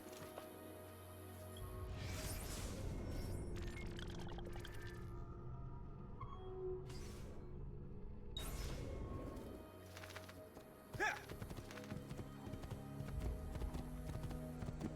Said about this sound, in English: So I'm going to borrow this convenient horse, eating by this pile of leaves.